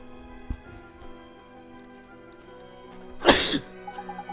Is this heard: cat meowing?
no